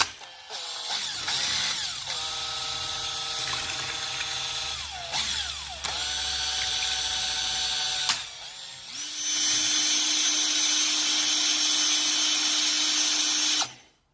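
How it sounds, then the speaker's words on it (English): A power drill whirs in bursts as it churns Camco toilet paper in water, the motor pitch rising and falling before settling into one long, loud, steady run. "we'll whack the drill into the Camco one, and we'll agitate that for about 10 seconds."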